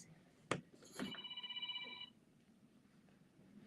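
A telephone rings in the background of a quiet indoor space, giving a sharp click and then a single warbling electronic trill lasting about a second, fairly faint and with no talk over it.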